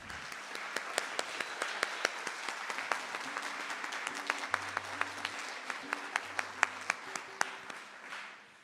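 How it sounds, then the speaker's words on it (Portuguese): Warm applause from an audience at a senior citizens' choir event rolls on steadily for several seconds, fairly distant and even, with soft low tones sounding briefly beneath the clapping before it tapers off. "dar uma salva de palmas a Heloísa Mendes"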